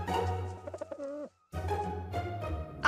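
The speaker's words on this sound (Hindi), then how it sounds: "हमें इस कबूतर से फारिग करवा दीजिए।" A pigeon coos close by in a few soft, rolling calls, broken by a brief pause, over a low steady hum, with no talking.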